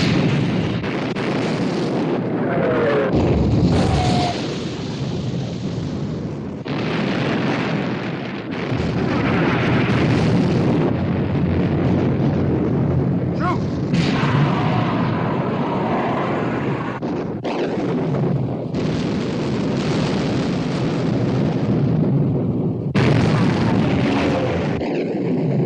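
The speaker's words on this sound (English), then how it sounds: "Prince of Wales and Bismarck exchanging fire." Battleship gun duel between HMS Prince of Wales and the Bismarck in a 1960 war film: heavy artillery blasts and rumbling explosions recur loudly throughout over a dense wash of battle noise, with shouted orders in between.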